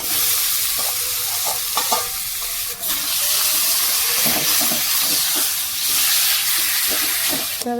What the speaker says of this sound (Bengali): মাছটা মশলার সাথে মাছটা ভালো করে ভাজতে হবে